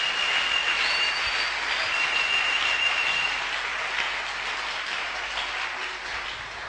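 A church congregation bursts into sustained, dense applause, many hands clapping loudly and evenly, with faint cheers mixed in.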